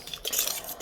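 A utensil works through banana bread batter in a bowl, giving a brief, close run of soft scraping and light clinks against the bowl with no voices.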